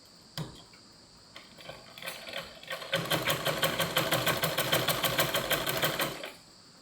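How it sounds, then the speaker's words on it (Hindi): A sewing machine running a long basting stitch starts with a thump, then settles into a steady, close, rapid mechanical clatter for several seconds before stopping, with no talking. "मशीन से जब हमें कच्चा सिलना हो तो हम"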